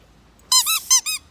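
Red Nerf dog toy squeaked four times in quick succession, sharp, bright, close-up squeals in an uneven rhythm, heard alone against near silence.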